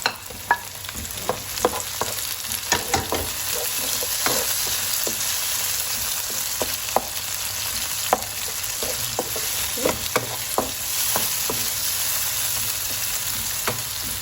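Tomatoes frying in a pan, a steady close sizzle with a spoon stirring through it, scraping and tapping the pan at uneven intervals throughout, with no talk.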